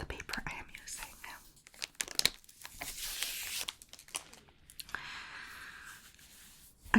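A sheet of bright white paper for brush lettering is handled close up, crinkling and rustling in soft bursts beneath a quiet, whispered voice.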